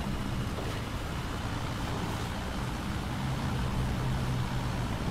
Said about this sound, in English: Come on, engine.